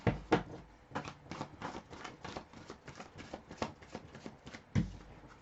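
Tarot cards are shuffled in a quiet room, giving a rapid series of crisp riffling flutters at a steady rhythm, fairly close and soft, with no talking.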